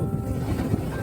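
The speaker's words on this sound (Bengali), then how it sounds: "জলের ঢেউ" Sea waves wash onto a sandy beach at Laxmanpur-2 on Neil Island, Andaman, a brief, loud, roaring rush of surf mixed with wind buffeting the microphone.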